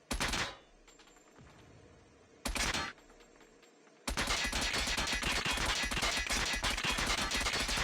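Bursts from the KSP burst-fire SMG in Call of Duty: Mobile ring out loud and close: two short volleys, then a sustained stretch of rapid, rattling gunfire.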